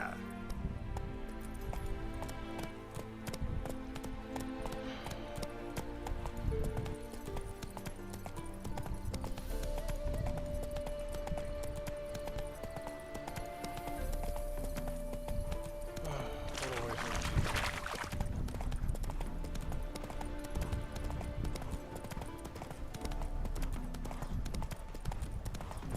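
Roach, a horse in the video game The Witcher 3, gallops in a steady clip-clop of hooves that runs throughout, set against a dense game music and ambience bed with a sustained tone midway and occasional voices.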